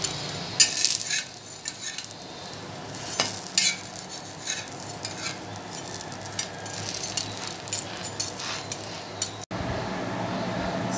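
Bread fries in ghee in a pan with a steady, soft sizzle. A utensil scrapes and clinks against the pan now and then, and there is a brief sharp cutoff near the end.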